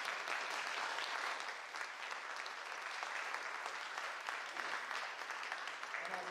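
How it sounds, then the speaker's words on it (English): Audience applause at a senior piano recital, a continuous even wash of many hands clapping across six seconds, heard from within the hall at moderate level with no speech. "please give my uh, piano teacher, Ann Madison, another big round of applause for accompanying us"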